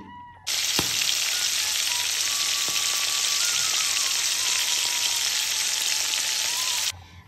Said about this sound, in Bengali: কড়াই গরম হয়ে গেছে, এবার আমি সরষের তেল দিয়ে দেব। কি রে, তেল তো গরম হয়ে গেল, মাছগুলো ভাজ।